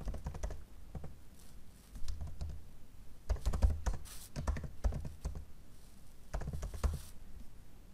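Keys clatter on a computer keyboard in uneven bursts of quick taps with short pauses between them, close and fairly quiet, while a name is typed in.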